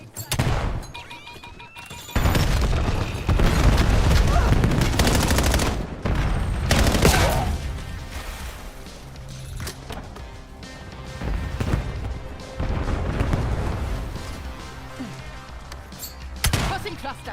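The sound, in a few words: concussion grenade exploding in a video game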